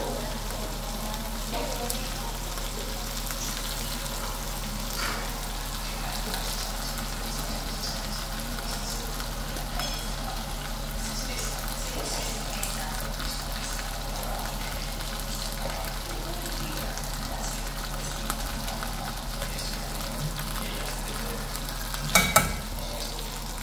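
Chicken cooking in a pan with pipian sauce, giving a steady, continuous sizzle and bubbling at a moderate level throughout, with a brief clatter near the end.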